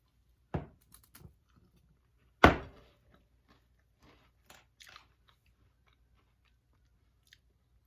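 Crackers with spinach dip are bitten with two sharp, close crunches a couple of seconds apart, followed by faint chewing and small clicks in an otherwise quiet room.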